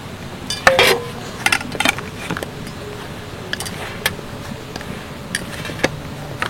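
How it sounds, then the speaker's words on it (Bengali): Puffed-rice dough for rasgulla is moved into a big bowl and mixed, with metallic clinks and scrapes of the utensils near the start, then lighter taps over a low steady background hum. "এবার এটাকে আমি একটা বড় পাত্রে নিয়ে নিচ্ছি, মানে ভালো করে মিশিয়ে নেবো।"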